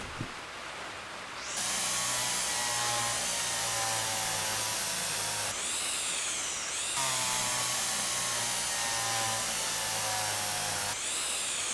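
A cordless power drill whirs steadily at high speed for several seconds, stops briefly, then runs again and winds down, close by in a workshop during a restoration job.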